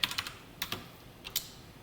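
Keys tapped on a computer keyboard while entering JavaScript code, a few quick clustered clicks with short pauses between bursts, fairly quiet and close, no talking.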